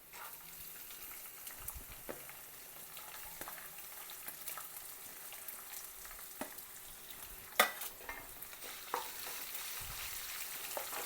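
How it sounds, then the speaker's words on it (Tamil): Curry leaves and finely chopped onion fry in hot oil, giving a soft continuous sizzle broken by occasional scrapes and clinks of a stirring utensil against the pan, close and fairly quiet. "கொஞ்சம் நேரம் நம்ம ஃப்ரை பண்ணலாம்."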